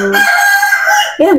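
One long, loud cock-a-doodle-doo from a nearby rooster fills most of the moment, with a brief spoken word just before it and another voice cutting in at the end.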